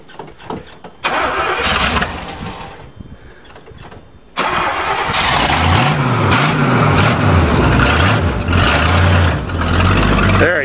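Oldsmobile car with a modified exhaust cranks and starts, then revs hard through the pipes in repeated rising and falling surges, loud and close, with no talking over the engine.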